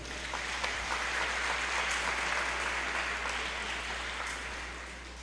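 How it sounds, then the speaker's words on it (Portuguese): A church congregation applauding during a sermon, a dense, steady patter of many hands clapping together that carries on for several seconds before easing slightly at the end. "Vamos aplaudi-lo por isso, irmãos?"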